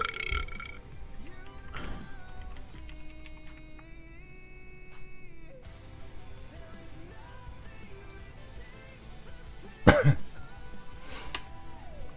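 A person burps, low and guttural, under a busy backdrop of game audio and music, with the loudest, most forceful belch landing near the end.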